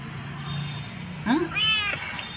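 A cat meows twice in quick succession, close by and fairly clear, over a quiet hum of room noise.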